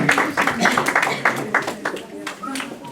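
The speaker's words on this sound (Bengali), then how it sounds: "জোরে হাততালি দেবেন" An audience at a Bengali cultural gathering in New York claps along in a steady rhythmic pattern while a voice speaks over it, the claps fairly loud and close.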